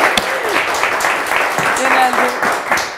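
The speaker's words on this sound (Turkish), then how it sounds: "Oturma izni şimdi alkışlar." A game show studio audience breaks into a dense wash of applause, steady and loud throughout, with a host's voice speaking over it.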